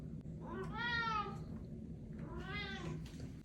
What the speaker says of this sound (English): You haven't given me a really big meow in a while.